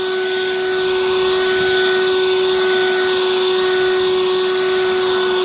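A Harbor Freight Lynxx 40V lithium cordless electric leaf blower runs steadily at close range, a continuous loud whine with a strong fixed tone and broadband airy rush, no speech.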